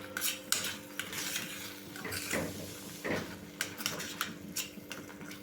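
A spoon scraping and clinking against a pan while Gujarati garlic chutney cooks, giving irregular metallic knocks and scrapes over a low frying sizzle, close by and without speech.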